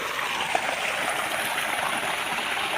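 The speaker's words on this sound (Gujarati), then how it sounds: "આ પાણી છે મસ્ત પાણી જાય છે" Water flowing steadily through a field irrigation channel on a farm, a continuous close rushing gush with no voices.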